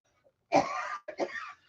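A woman gives a short throat-clearing cough followed by a second, broken burst of coughs, close and fairly quiet, with no talking.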